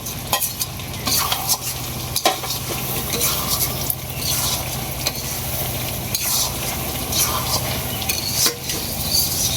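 Meat and potatoes stir-fried in a pan, a continuous close sizzle with repeated scraping of a utensil against the pan, steady and loud throughout with no talking.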